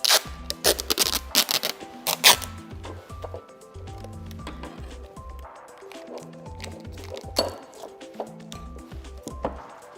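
A glass Petri dish is handled and taped, giving a string of close, light clinks, taps and scraping rustles in an uneven rhythm, over a faint musical background.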